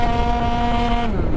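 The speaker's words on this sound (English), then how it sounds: "but here's half throttle." Tuned Yamaha Aerox scooter engine held at half throttle, a loud, steady buzzing drone with strong harmonics that drops away abruptly near the end.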